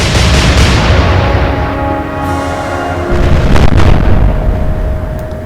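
Naval artillery salvo from warships in the Atlantic Fleet game, Royal Navy against Kriegsmarine, booming heavily at the start, followed by a loud rumbling decay and a second burst of distant impacts later.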